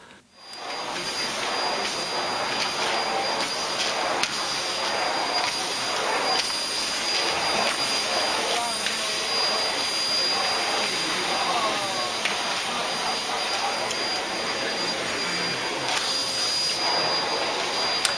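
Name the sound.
vacuum cleaner running under restaurant table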